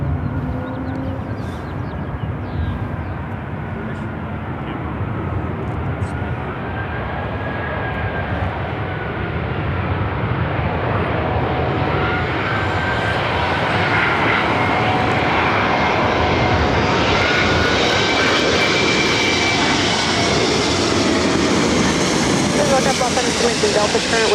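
An Airbus airliner on short final landing on runway 24 right at LAX, a loud continuous jet engine roar that swells steadily as it passes close by, with tower radio talk faintly underneath.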